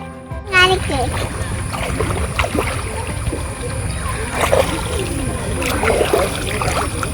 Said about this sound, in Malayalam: അതാ തോണി.